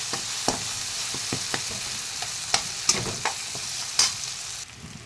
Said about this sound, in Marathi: पूर्ण टोमॅटो गळून जायला पाहिजे ह्याच्यामध्ये फ्राय करून।